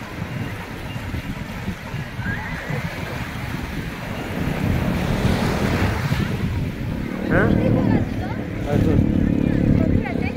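Sea waves and steady wind on the coast at Arnala, near moored fishing boats, a continuous broad roar with gusting microphone wind and some faint voices mixed in.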